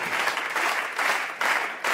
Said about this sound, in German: Applaus für Zlatko.